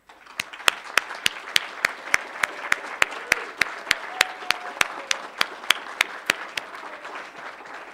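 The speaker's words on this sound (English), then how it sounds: "please allow me to ask to all to applaud you all" An audience applauding the winners at a conference session, sustained clapping from a crowd under a sharp, evenly spaced rhythmic clap standing out up close, roughly three beats per second.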